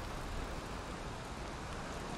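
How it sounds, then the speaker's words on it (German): Steady, dense rain hisses without a break during a storm in the video game Valheim, a loud, even wash of falling water with no voices. "Aber ich muss sagen, es regnet auch verdammt oft."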